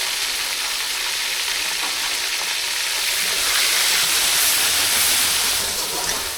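Fried onions with garlic paste and ginger paste sizzle loudly in a pan, a continuous close hiss that swells slightly midway, with no talking.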